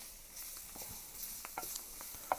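A chopped mix of onion, bell pepper, celery, parsley and garlic is stirred into a dark roux for chicken and andouille gumbo, with a faint low sizzle and a few soft scrapes, quiet and close.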